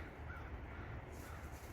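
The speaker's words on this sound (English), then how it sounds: "Oh, we have angered the crows yet again." Crows cawing harshly over a dense, steady outdoor background, the calls blurred and somewhat distant rather than crisp.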